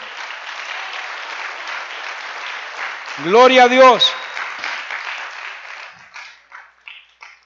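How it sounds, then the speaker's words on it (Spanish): A church congregation claps in praise during a sermon. The dense applause carries on under a loud shouted voice partway through, then thins into scattered individual claps. "Dele un aplauso al Rey."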